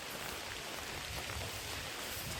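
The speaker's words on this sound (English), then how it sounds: "Wandering through the rain." Steady rain falls on a swamp hiking trail, a dense, even hiss that holds at constant loudness with no voices.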